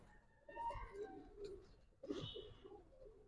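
A silver makna male pigeon coos at a pigeon farm in a soft, low, throaty burble, two quiet phrases close by in a calm setting.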